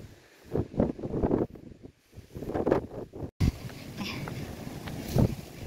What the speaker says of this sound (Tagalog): Grabe lakas ng hangin guys